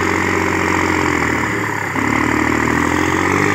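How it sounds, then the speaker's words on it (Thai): A John Deere 5055E cab tractor, about 50 hp and turbocharged, runs with a steady, loud engine drone and a low rumble throughout. It is close and continuous, with a brief dip partway through and no talking. "ผมพามาชมแทรกเตอร์นะครับผมตัวแอร์นะครับ เป็นของค่ายจอห์นเดียร์นะครับผม"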